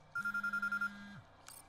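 A phone rings inside the video game Quantum Break: a clear electronic ring tone in one long steady burst of about a second, with a pulsing chime above it, over quiet room tone. A short click follows.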